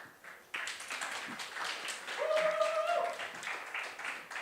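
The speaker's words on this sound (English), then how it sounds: "a round of applause, please" Conference audience applause at a travel-tech panel swells steadily over several seconds, a dense patter of clapping with a sustained tone sounding briefly through the middle.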